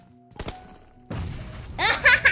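A soft thud and a muffled grenade blast burst out in PUBG Mobile, followed by bright crackling, sparkly bursts.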